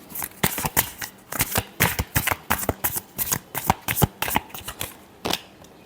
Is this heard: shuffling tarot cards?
yes